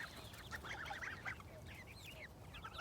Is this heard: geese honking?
yes